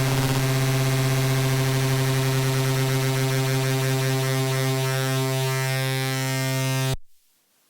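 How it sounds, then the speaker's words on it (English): A loud, sustained, buzzy digital synthesizer tone from a Teenage Engineering OP-1 Field, with a gritty noisy edge, drones steadily for several seconds, then cuts off abruptly to near silence. "you can get some really harsh tones this way"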